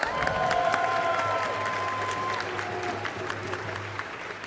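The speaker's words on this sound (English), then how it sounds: "Give yourselves a round of applause" Audience applause and cheering fill a conference hall, a dense sustained wash of clapping with a steady tone running underneath that gradually thins toward the end.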